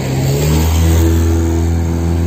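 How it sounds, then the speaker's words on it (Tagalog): A jeepney engine revs loudly and steadily as it drives past at a hilltop park in Tagaytay, a deep, droning motor close by that holds a constant growl. "Ayan, yun yung mga jeep."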